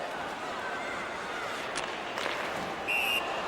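A referee's whistle blows briefly for offside in an ice hockey video game between national teams, a short shrill tone near the end over steady crowd and arena noise.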